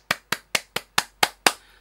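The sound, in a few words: applause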